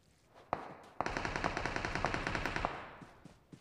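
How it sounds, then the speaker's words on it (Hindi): UMP submachine gun fire in a battle royale game: two sharp single shots, then a steady rapid burst of about a dozen evenly spaced rounds, followed by a few fainter scattered shots. "यहाँ पे पता नहीं UMP से कहाँ से फायरिंग आ रही थी"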